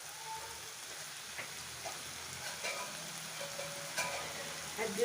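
Cluster beans stir-fry in ghee with a quiet, steady sizzle. Soft scattered crackles and light stirring taps sit above a low background.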